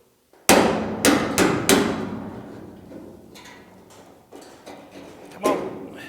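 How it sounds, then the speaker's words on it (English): Hammer blows strike a car door on a GTO restomod being adjusted for a bad door gap: four sharp, loud close hits in quick succession, then softer knocks and one more solid strike. "I've been hammering and pushing on this door pretty good"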